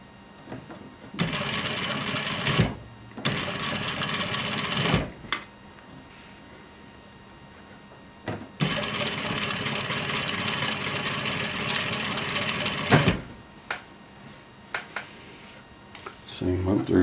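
A home sewing machine stitches fabric over a seam, running in two long sustained whirring bursts separated by quiet pauses and short clicks, with a person talking in between.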